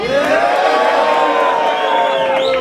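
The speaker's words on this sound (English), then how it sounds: "So go and make some noise for fucking Greeley and Vega." A loud, dense crowd roars and cheers at a rap battle, with whoops and sustained shouting filling the room throughout, close and continuous without a break.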